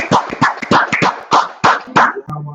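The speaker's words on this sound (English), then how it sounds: "Go ahead and clap it up." Hand claps ring out in a room as a class warms up, eight or so loud, fairly sharp claps at an uneven, slightly loose rhythm, followed by a brief low hum at the end.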